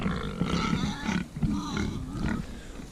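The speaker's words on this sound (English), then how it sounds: "We're gonna get these pigs fed real quick." Red wattle pigs grunt and snuffle close up in a busy, overlapping chorus of low, rough calls at feeding time on a pasture farm.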